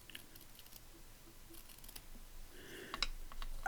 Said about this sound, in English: rather than that, I'm going to cut them individually